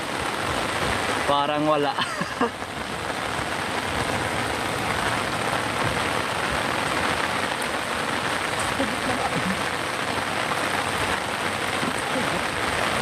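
Heavy rain pours in a dense, continuous hiss throughout, outdoors during a flood, with a brief voice early on.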